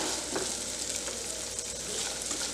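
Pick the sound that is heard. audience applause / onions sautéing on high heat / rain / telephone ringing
onions sautéing on high heat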